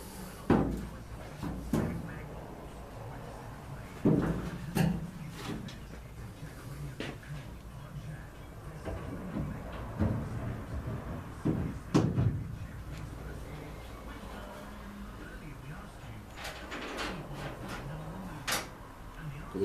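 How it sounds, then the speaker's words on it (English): Cabinet door being test-fitted onto hinges fastened with panhead screws: a series of close wooden knocks, taps and clunks at irregular intervals, with light handling noise between them. "I'm just gonna try the door on the hinges"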